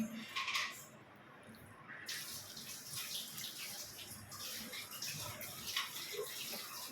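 Jackfruit is washed under running tap water, a soft continuous splashing stream at low level with occasional faint clinks.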